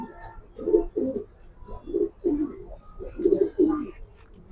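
A racing pigeon coos nearby in repeated soft, throaty bursts, about five low pulsing calls spaced across a few seconds, with faint background noise.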